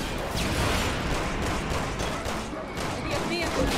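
Rapid bursts of gunfire in Resident Evil 6 crackle densely and continuously, loud and close, with a voice faintly mixed in beneath.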